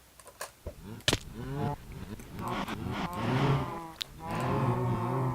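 Cows mooing in Minecraft, several drawn-out bovine calls overlapping one another, fairly close and moderately loud, with short clicky game sounds in between.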